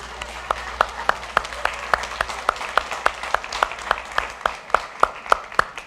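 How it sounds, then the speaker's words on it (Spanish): A church congregation claps together in a steady, rhythmic beat, roughly two claps per second, with a softer spread of scattered applause underneath; loud and close throughout. "Démosle un aplauso a Dios por esto."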